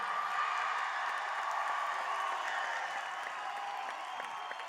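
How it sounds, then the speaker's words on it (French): A large concert hall audience at a school rock festival applauds students, a fairly faint, steady wash of clapping heard from a distance and mixed with crowd murmur and scattered cheers. "Je vous demande de faire un tonnerre d'applaudissements pour Maxime, Nathan, Lucille, Hayat et Maxime."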